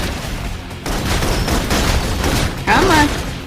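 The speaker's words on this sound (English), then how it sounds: "Requesting full suppression gunfire." Suppression gunfire in the video game Love and Deepspace, a dense continuous rattle of shots with a heavier burst near the end, loud and close, with a brief voiced sound mixed in.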